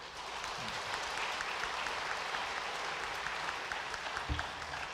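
A church congregation at a Sunday worship service applauds to welcome a visiting missionary serving in Taiwan, with dense, steady clapping filling the room throughout at moderate, even loudness.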